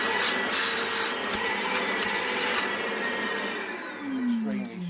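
An Evolution R15 workshop vacuum cleaner switched on with hose attached, a loud steady motor whine and airflow roar sustained throughout, easing slightly toward the end with a falling tone.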